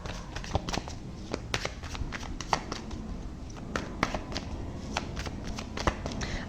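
Tarot cards being shuffled close up, a dense run of crisp riffling flicks and soft slaps repeating steadily for several seconds with no voice.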